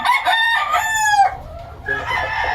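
A Gilmore gamefowl rooster lets out a loud, close crow, a rising then drawn-out call, followed by a shorter second call after a brief pause.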